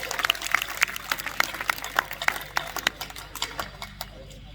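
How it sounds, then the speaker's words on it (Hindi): An audience claps at a Hindi poetry gathering, a kavi sammelan in Beohari, with a burst of distinct handclaps that is lively at first and then thins out and fades within a few seconds. "एक बार तालियां बजा करके आ जाए"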